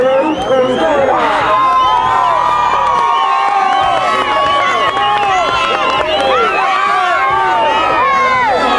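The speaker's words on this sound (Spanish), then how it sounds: "¡Fuerte el aplauso de Manzana!" A crowd at the podium ceremony of the Vuelta de la Manzana rally cheers and shouts excitedly, many overlapping voices and whoops with some clapping mixed in, loud and continuous.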